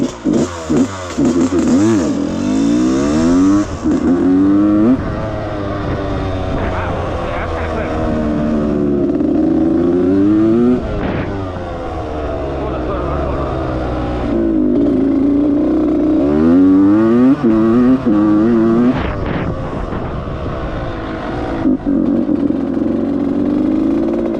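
Rebuilt Suzuki RM125 two-stroke dirt bike engine running close by, idling and repeatedly blipped with rising and falling revs that sag and bog on light throttle, loud and continuous throughout.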